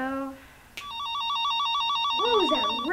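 A cell phone rings with a steady, electronic trilling tone pulsing in rapid even beats, fairly loud and close, at a 1998 family reunion; a voice speaks briefly before the ring and again at the end.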